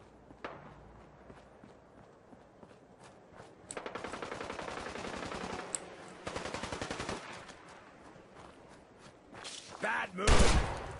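Gunfire in Fallout 4 during the Silver Shroud quest: bursts of rapid automatic shots around the middle, with footsteps and scattered game noises, ending in a loud explosive blast near the end.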